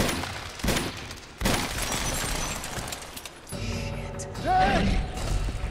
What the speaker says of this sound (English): Let's hope this is loaded. A old type of pistol.